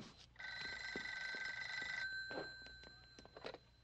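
A telephone rings with a steady, bright electronic trill that holds for a couple of seconds, then gives way to fainter tones and light clicks, with no talking.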